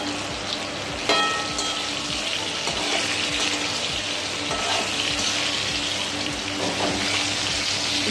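Salted vegetables and raw banana fry in a pan for a Bengali hilsa curry, giving a steady close sizzle with small crackles and occasional stirring scrapes, no voices.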